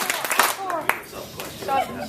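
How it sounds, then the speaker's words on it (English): Meeting attendees at a staff meeting clap briefly, a few sharp claps among scattered crowd sounds, with people talking over them. "All right, 2 claps."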